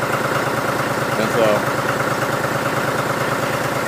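A John Deere 5103 tractor idles after a cold start outdoors in winter, its engine close and steady with an even, rapid chugging pulse throughout and a brief small bump midway.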